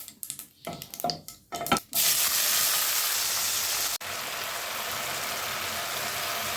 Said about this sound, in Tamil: கடுகு வெடிச்சிருச்சு தக்காளி சேர்த்துக்கலாம்